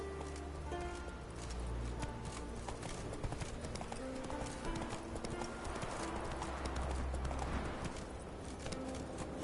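Horse galloping in the video game Witcher 3 Wild Hunt, a fast steady run of hoof clip-clops over continuous ambient game sound, with brief faint voice.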